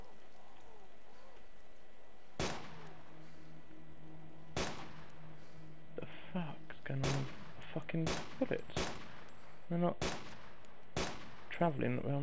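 Gunfire in the video game DayZ, several sharp loud shots spaced irregularly, then a quicker cluster of cracks with echoing tails, heard close over a low ambient hum with some soft voices between.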